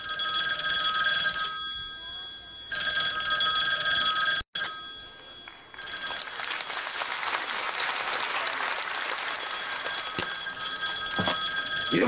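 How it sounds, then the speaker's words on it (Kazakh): An old-style telephone bell rings insistently in a comedy sketch set at an emergency ambulance dispatch desk. It gives long, shrill bursts with brief gaps, under audience applause and crowd noise. "Телефон бейшара шырылдап атыр"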